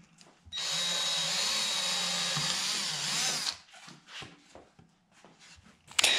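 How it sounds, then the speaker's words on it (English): Power drill boring through the base of wooden wall pieces, a loud high whine held for about three seconds, then quieter scattered handling clicks and taps. "Then we marked 5 spots on the base of two of the wall pieces and drilled through them."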